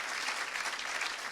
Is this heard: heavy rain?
no